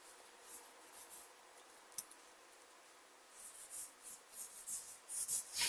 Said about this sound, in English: I'm also drawing on top of my cardboard setting that I paint on